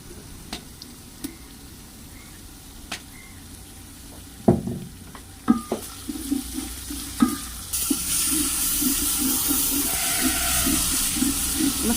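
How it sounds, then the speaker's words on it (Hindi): Spices, onion, garlic, ginger and green chilli frying in a pan for kadhi pakora, with stirring clatter and spoon knocks followed by a steady close sizzle, no one talking. "मसाले को हमने भून लिया है।"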